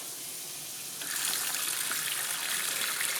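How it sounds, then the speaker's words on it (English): A hot water tap fed by a Navien NCB700 combi boiler gushes on with a steady broadband rush of running water, loud and close, after a quieter second of background hiss. "Let's quickly just try a hot water tap."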